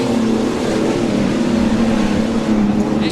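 Super saloon race cars roar around the track at the Hawkes Bay Super Saloon Champs, a dense continuous engine drone loud and close throughout, with a commentator's voice partly blended in.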